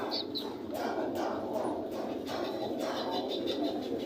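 Fancy pigeons at a village market, soft cooing and faint chirps under steady crowd murmur, with a voice talking nearby.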